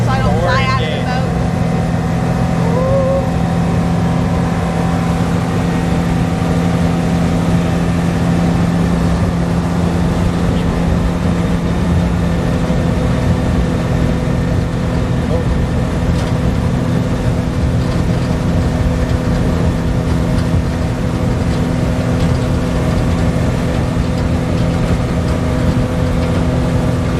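A tour boat's engine roars loudly and steadily on a New Orleans alligator bayou tour, a constant close drone with people talking over it throughout.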